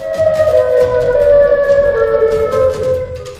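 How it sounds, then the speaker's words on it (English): A small-town warning siren wails steadily and loudly for a few seconds, its sustained tone sliding slightly downward over a rumbling background. "A warning siren rips through the small town."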